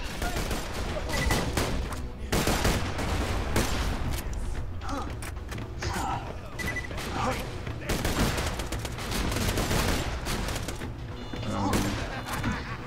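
Rapid enemy gunfire in Borderlands 2, dense bursts of shots and impacts crackling almost continuously, loud and close, with thuds and crashes mixed in and a voice occasionally talking over it.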